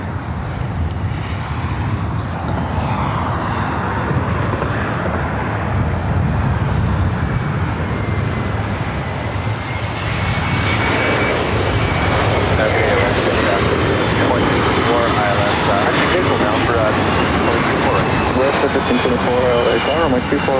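Aircraft engines roar at LAX as planes take off and land, a loud continuous jet rumble that swells and fades across the runways, with radio-style voices talking over it.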